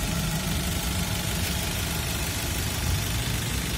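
The 1500 cc engine of a 2016 Daihatsu Terios R Custom idles at a steady, fairly quiet level, a smooth, continuous hum with no voices.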